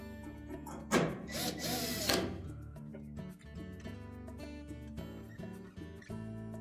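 A power drill drives a screw into the back panel of a Whirlpool dryer, whirring in a short loud burst, then giving way to quieter clicks, taps and mechanical rattles up close.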